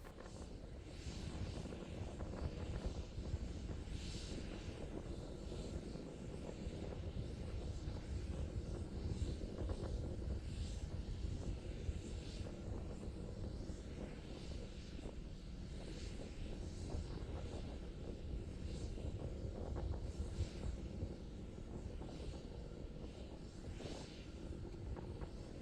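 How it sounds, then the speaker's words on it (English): SpaceX Starship SN11 prototype climbing on two of its three engines after one shut down, a steady, broad roaring rumble with wind buffeting, continuous and even throughout with no speech. "continuing to climb on power of 2 engines"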